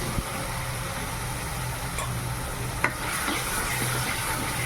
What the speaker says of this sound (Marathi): आता आपण टोमॅटोची प्युरी टाकून घेऊ.